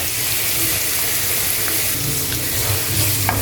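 Garlic sizzles steadily in a pan holding leftover pork juices while pork adobo is cooked, a dense, continuous frying hiss with faint stirring scrapes throughout.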